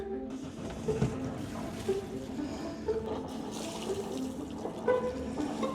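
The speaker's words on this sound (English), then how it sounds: "Sounds good, sounds like an engine." A boat engine starts and idles low and steady with sputtering, watery churning and occasional louder knocks, fairly close.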